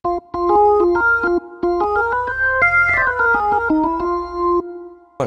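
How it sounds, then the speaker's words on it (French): A bright Hammond organ on its default software sound plays a lively sequence of sustained chords and short notes, clean and close, with crisp attacks and a steady tone. "voici le son de l'orgue par défaut"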